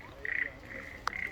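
A frog croaks outdoors among leaves and birds in a few raspy, trilling calls, close and fairly clear over a quiet background.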